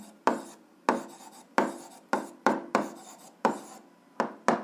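Pen strokes for a math solution, about a dozen sharp scratchy taps and short scrapes in irregular quick bursts, close and distinct against an otherwise quiet background.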